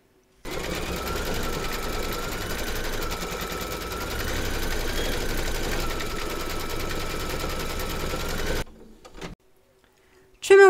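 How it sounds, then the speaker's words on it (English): An embroidery machine stitches a securing round on a hooped design, a loud continuous rapid chatter lasting about eight seconds before stopping abruptly, followed by a few faint clicks and a short burst at the end. "Pop your hoop into your machine and stitch round number 6 to secure it"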